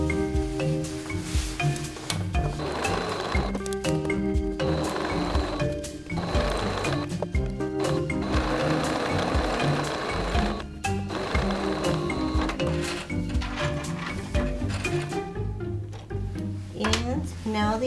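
Sewing machine running in bursts as it stitches the side seams of a sleeve-tie top with a half-inch seam allowance, a steady close mechanical whir that stops and restarts several times, with speech heard over parts of it.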